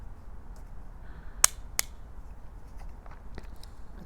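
Two crisp, close clicks from a clicky magnetic fidget slider snapping into position, followed by a few fainter ticks over a quiet background.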